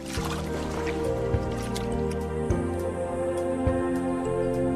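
A young chimpanzee plays in water, giving drips, squishes and small splashes under a loud, layered tonal background that masks much of the water sound.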